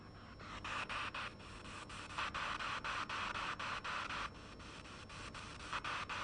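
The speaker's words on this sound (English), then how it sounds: "you can hear somebody kerchunking it" FM radio carrier keyed repeatedly without speech, received on a software-defined radio: bursts of hissing static broken by rapid rhythmic dropouts, steady and moderately loud with no voice.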